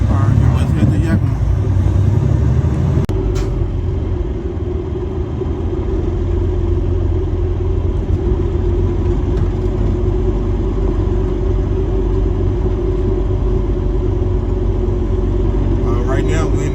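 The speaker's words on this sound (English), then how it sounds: "Right now, we're in this stop and go traffic." A semi truck creeps through stop-and-go traffic in a road construction zone on the way to Yakima, heard from the cab as a steady, loud low engine rumble that holds without a break.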